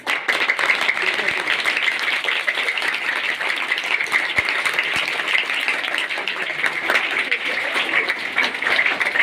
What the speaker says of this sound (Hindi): मैं सर से गुजारिश करूँगा तालियों से इस्तकबाल कीजिएगा